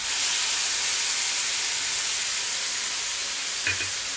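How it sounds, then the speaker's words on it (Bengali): Mixed spice paste frying in a pan for a Bengali katla fish curry, a loud, continuous close sizzle and hiss with a brief clink near the end. "মশলাটাকেও আমি ভেজে নিচ্ছি।"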